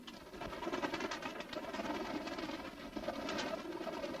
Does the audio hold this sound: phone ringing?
no